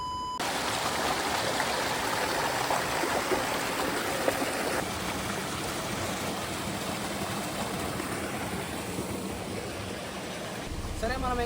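A small waterfall and stream near the Godavari river, Polavaram, rush in a steady, dense wash of water noise that runs evenly throughout at close range.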